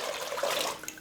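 Water pours or runs into a pot, two liters being filled for boiling with grated turmeric for turmeric beer; a brief steady splashing rush, close and moderately loud, with no talk.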